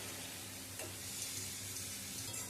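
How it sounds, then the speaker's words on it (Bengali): Cooked rice goes into a hot pan with soya chunks over a low flame, giving a quiet, steady sizzle with faint stirring. There is no talk. "এবারে আমি দিয়ে দিচ্ছি বানিয়ে রাখা ভাতটা"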